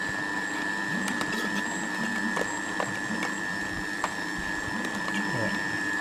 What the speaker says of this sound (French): On va allumer. On va essayer de mixer assez vite, assez fin.